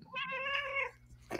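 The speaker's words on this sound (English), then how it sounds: "Now, even the cat agreed with that." A house cat meows once in a long, clear, drawn-out call with a rising and falling tone, close by, followed by a brief soft rustle at the end.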